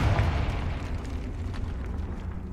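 The Confringo blast spell exploding in the Hogwarts Legacy video game, a loud deep boom that hits at once and then rumbles down into a long fading tail, with no voices.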